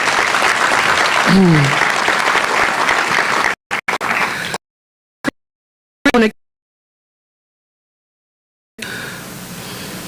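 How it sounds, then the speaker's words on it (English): A crowd at a Philadelphia town hall held after a plane crash breaks into loud applause for a few seconds, which then cuts out abruptly into silence and brief fragments before a noisy room tone returns. "Give Controller Brady a round of applause."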